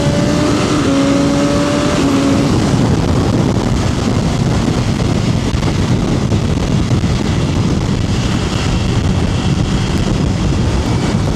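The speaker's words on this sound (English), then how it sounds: "It got super windy out of nowhere too" Strong wind roars steadily against the microphone, a loud continuous rumble with a faint tonal hum near the start.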